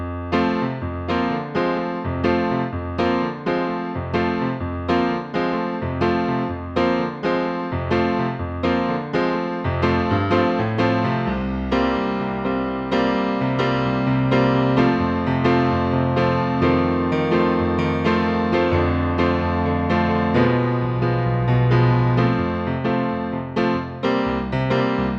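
Piano plays the third verse of a song with steady repeated chords and a low bass line, even and clear, alone without speech throughout.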